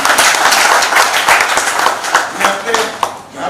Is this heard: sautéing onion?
no